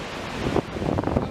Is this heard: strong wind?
yes